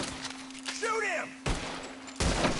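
Gunfire in the Red Dead Redemption video game: a brief burst of shots under a steady tonal hum, with a voice and whistling-like tones around it and a sharp onset near the midpoint.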